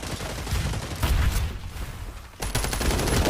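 Rapid gunfire rattles through a video game match in dense, sustained bursts, briefly thinning out before a fresh volley starts up, loud and close throughout.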